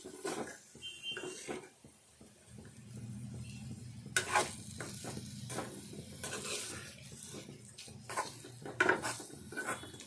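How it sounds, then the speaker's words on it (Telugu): Eggs frying with chili masala in a pan give a soft, low sizzle, broken by intermittent clinks and scrapes of a utensil against the pan. "ఈ కారం అంతా కూడా కొద్దిసేపు ఈ గుడ్లతోటి వేగాలి"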